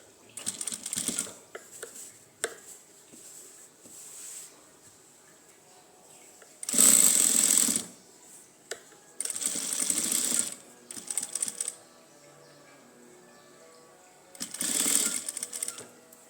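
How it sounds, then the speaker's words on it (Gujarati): A sewing machine stitches along the edge of a blouse in several short, loud bursts of rapid whirring, separated by quiet pauses with light handling noises. "પછી આપણે એક ધારની સિલાઈ લગાવી દઈશું"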